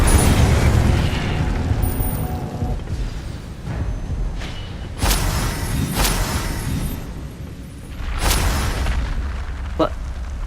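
Incendio fire spells cast in the video game Hogwarts Legacy burst out as several loud whooshing blasts spaced a few seconds apart, over busy combat noise and a voice calling out.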